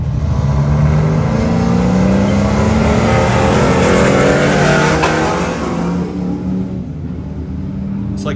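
Stock comp trucks roar away from the race start at a desert off-road event, a loud, dense mass of revving engines climbing in pitch and then fading as the pack pulls off, with a faint crowd or announcer underneath.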